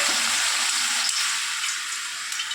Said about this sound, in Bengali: জল দিয়ে দেওয়া হচ্ছে।